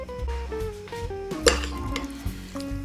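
A utensil stirs a salmon dish in a pan or dish with olive oil and pepper, giving a few close, bright clinks and scrapes over a soft tonal background, with no talking.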